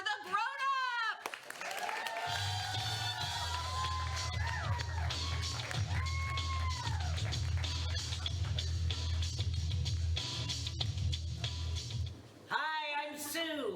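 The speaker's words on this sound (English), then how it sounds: "get your hands clapping, your feet stomping, make some noise for the Grownups!" A crowd at an improv comedy show cheers, whoops and claps for about ten seconds, loud and continuous with a heavy low stomping rumble under high shouts, then dies away as voices resume.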